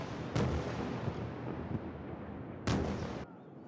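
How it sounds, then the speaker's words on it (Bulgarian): Explosions boom over Tel Aviv at night amid air-raid alerts, two heavy blasts rolling out over a constant distant rumble. "Отекват експлозии."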